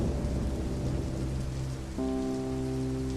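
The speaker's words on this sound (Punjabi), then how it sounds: "ਅਚਾਨਕ ਮੀਂਹ ਪੈਣ ਲੱਗਿਆ ਤੇ ਅਗਲੇ 4 ਦਿਨਾਂ ਤੱਕ ਲਗਾਤਾਰ ਮੀਂਹ ਪੈਂਦਾ ਰਿਹਾ।" Heavy rain pours in a dense, continuous wash while a low rumble runs beneath it and a sustained musical tone enters partway through, with no voices.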